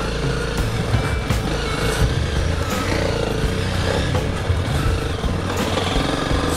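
Motorcycle riding an off-road enduro track with mud and bumps in Sto. Tomas, Pampanga: a steady, rough engine drone at close range, holding a constant level with faint knocks, no voices.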